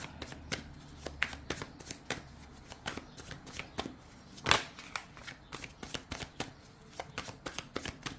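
Tarot cards are shuffled by hand in a quick run of crisp riffles and flicks, close and fairly quiet, with one louder snap midway and no talking.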